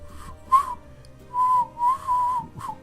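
Someone whistles a short tune in the game Trails of Cold Steel: a few clear, sustained notes alone over quiet background hum, with brief pauses between the phrases.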